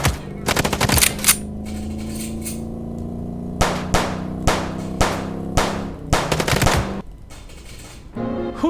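Gunfire in the video game Chicken Police: a rapid burst of shots early on, then a string of single loud shots at irregular intervals over a steady musical drone, with no talking.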